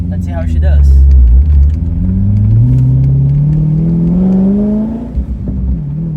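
A Corvette with a new exhaust system and new clutch accelerates on the road, its deep engine note climbing steadily in pitch through a long loud pull before easing off, no talking.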